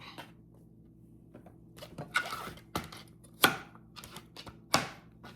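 Knife slicing carrots into thin rounds on a cutting board in a home kitchen, heard as a few separate sharp chops at an uneven pace, close and fairly quiet, with no talk.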